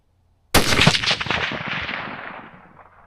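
A single loud Ruger American Gen II Scout rifle shot cracks at close range, followed by a long echoing tail that fades out over about two and a half seconds.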